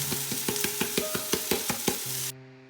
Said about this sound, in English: And we start with frying the vegetables for a short time.